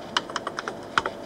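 Fingers tap out a quick, uneven run of keystrokes on the keyboard of a 1975 Ceefax black-and-white graphic display unit, close and crisp, with each key giving a short clack.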